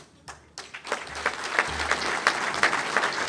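Audience applause at a Chicago Park District superintendent's talk, scattered claps at first that build into a fuller round of clapping, moderately loud and close.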